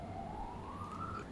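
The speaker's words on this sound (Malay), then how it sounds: "Sekarang ni bunyi polis ke ambulans tu." A police car or ambulance siren wails from a distance, a steady tone slowly rising in pitch over a low background rumble, with no voices present.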